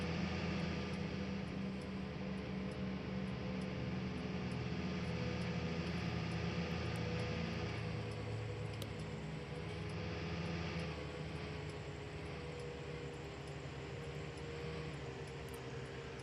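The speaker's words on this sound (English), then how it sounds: "There's that biplane." A biplane flies overhead in the Farming Simulator 19 farming video game, a steady propeller engine drone holding under constant background ambience with no talk.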